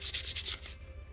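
Sandpaper rubbing back and forth on a painted wooden sign piece from a love letters and gnome tag kit, about five quick rhythmic strokes up close, then it fades off.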